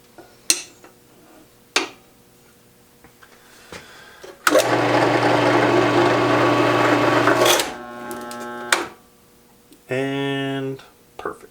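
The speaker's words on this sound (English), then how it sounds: "this drill bit has a threaded tip on it, and it totally just sucked the board" A drill fitted with a threaded-tip bit bores into a wooden board clamped for a bench vise mount. A few sharp clicks come first, then a loud whirring bore of about three seconds, followed by a shorter whining burst, with some talk around it.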